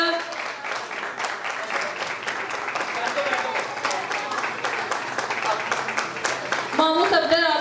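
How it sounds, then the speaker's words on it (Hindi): An audience at a children's prize-giving on Resurrection Day claps steadily and densely from start to end, with voices and some background sounds mixed under the sustained applause. "तालियां कम नहीं होनी चाहिए"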